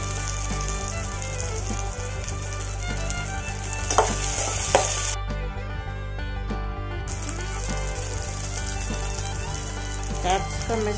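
Carrots frying in a pan with ginger garlic paste give a steady close sizzle, broken by scraping stirs and a brief quieter gap midway, no voices.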